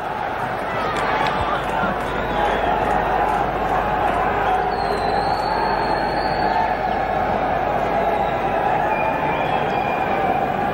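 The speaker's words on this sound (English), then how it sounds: "It's not a large crowd here for this game between India and Pakistan, but there's no shortage of enthusiasm." A small but enthusiastic cricket crowd of India and Pakistan supporters at a 1992 World Cup match, a steady broad murmur of chatter and cheering filling the ground at an even level throughout.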